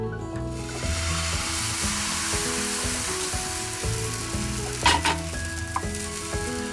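Pancake batter sizzles and fries steadily in searing hot pans, a loud, continuous crackling close by, with a few brief utensil scrapes and clinks partway through.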